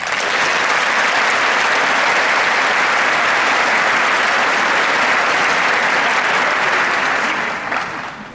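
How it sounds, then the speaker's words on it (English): Sustained, dense applause from a graduation audience, loud and even for about seven seconds before tapering off at the end. "I think they deserve a big round of applause."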